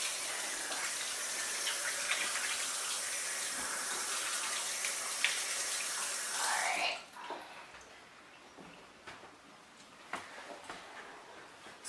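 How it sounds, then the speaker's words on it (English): Kitchen tap water runs steadily as something is rinsed beneath it, a close, full gushing spray that stops abruptly after about seven seconds, followed by quiet with a few faint knocks and handling sounds. "let me just rinse this off"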